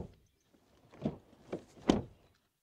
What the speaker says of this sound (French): Ensuite, les sons de fermeture des portes.